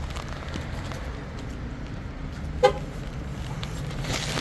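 A truck horn gives one short chirp as the truck is locked, sharp and fairly close above a steady murmur of outdoor traffic and ambient noise near a demolition derby venue in Champaign, Illinois.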